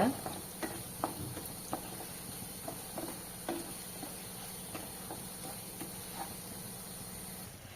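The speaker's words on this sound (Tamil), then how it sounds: "இப்போ எல்லாமே நல்லா கலந்து கொடுங்க" A spoon scrapes and taps in a pan at irregular intervals while stirring spices for egg gravy, over a soft steady hiss of sizzling, fairly quiet and close.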